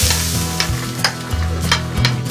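Tomatoes being stirred into onions frying in ghee in a pan, a busy crackling sizzle with scraping spoon strokes, close and steady throughout, no voices.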